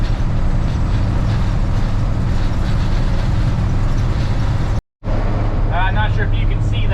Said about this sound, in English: It's super, super windy outside, and it's super loud inside this cab.